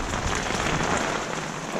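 Steady rain drums on the canopy of a Feldon Shelter Crow's Nest family rooftop tent, a dense, continuous patter close overhead with no voices.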